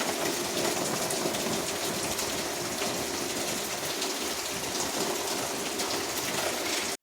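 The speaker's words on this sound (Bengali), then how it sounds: "আর আমাদের এখানে প্রচুর বৃষ্টি পড়ছে।" Heavy rain falls in a continuous, even wash of hissing noise with no break or talk.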